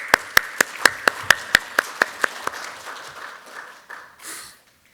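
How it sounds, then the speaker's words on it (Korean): At a social economy forum launch ceremony, about ten sharp, distinct claps sound in a quick steady rhythm, close and crisp, then trail off into a few softer ones and quiet. "박수 부탁드리겠습니다"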